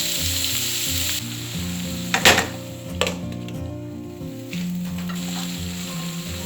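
Green chillies fry in a pan for a Sri Lankan egg curry, hissing steadily at close range, with a couple of sharp bursts of spattering and a few utensil scrapes and knocks.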